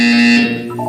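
A single loud electronic buzzer from the video game Portal 2 sounds a sustained harsh tone for under half a second, then drops away into a softer trailing hum.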